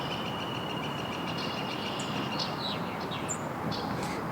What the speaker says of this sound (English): That is the first female red-winged blackbird I heard this year.